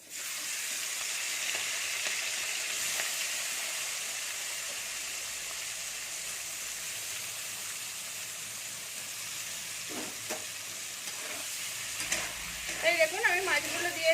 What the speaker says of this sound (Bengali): এই দেখুন আমার তেল গরম হয়ে গেছে এবার মাছগুলো আমি দিয়ে দিচ্ছি